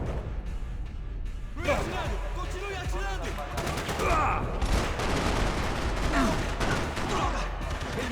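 Dense video-game gunfire from Max Payne 3, set in Brazil, with rapid overlapping shots and automatic bursts crackling continuously under a talking voice and background music.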